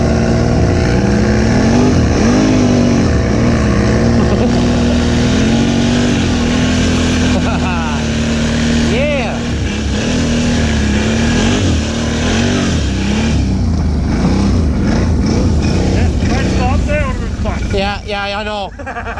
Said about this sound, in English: It's throttling time!